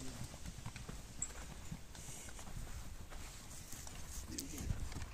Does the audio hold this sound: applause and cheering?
no